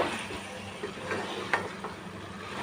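Chopped country chicken pieces being stirred in a cooking pot for a drumstick curry, giving soft, irregular scraping and shuffling with a faint sizzle underneath, close and fairly quiet, with one brief sharper clink midway.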